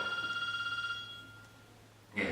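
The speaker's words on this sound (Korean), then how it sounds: "전화가 왔습니다." A telephone bell rings in a steady pulsing tone, fairly faint, then fades out, followed by a short louder burst at the end; no talking.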